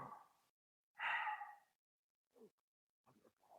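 A voice imitates Darth Vader's mask breathing with a long heavy hiss, then a few shorter, fainter breaths, close and quiet.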